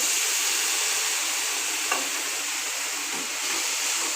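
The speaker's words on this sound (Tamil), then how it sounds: "வெறும் ஃபீட் கறியை அப்படியே அதோட நல்லா கிண்டி விடுங்க" Boiled beef pieces being stirred into coconut masala frying in a pan, a continuous loud sizzle and hiss with a faint scrape of the spoon partway through, no talking.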